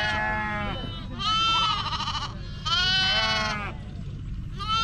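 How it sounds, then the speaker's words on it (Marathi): Sheep bleating at a village camp during a Diwali palkhi gathering, several loud wavering calls overlapping one after another close by, over a steady low rumble of background noise. "हे बघा, हे बघा मेंढी माऊली"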